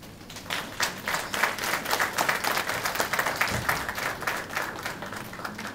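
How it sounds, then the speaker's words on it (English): Graduates and guests applauding at a graduation ceremony, a full round of many hands clapping that swells quickly and holds steady at close range, with no talk over it. "my fellow graduates will like to join me in applauding all those whose help made this day possible"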